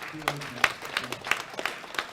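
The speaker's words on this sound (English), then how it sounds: "One more big round of applause for our top 3 medalists, 93 kilos." Audience at a world classic powerlifting championship applauding the top three 93 kg medalists, sparse, uneven claps from a smaller crowd with distinct individual hits, and a voice speaking underneath near the start.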